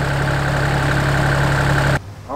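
A tractor engine runs loud and steady with a deep drone, then cuts off abruptly near the end, leaving a quieter background.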